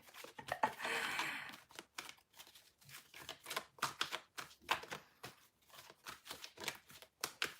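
Soft, rapid riffling and papery flicking of tarot cards being shuffled, continuous rustles and snaps close by, fairly quiet with no talking.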